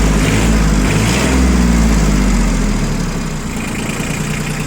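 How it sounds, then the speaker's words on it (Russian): A Yanmar F-145 three-cylinder four-wheel-drive tractor engine idles loudly and close by, a steady low diesel rumble with a slight dip in pitch partway through and no speech. "Прекрасно работает трактор."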